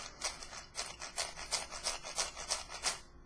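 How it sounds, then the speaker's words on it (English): MoYu speed cube with a single layer being turned repeatedly, giving quiet, raspy plastic clicks and scrapes in a quick, irregular rhythm, close to the microphone. "single layer turn"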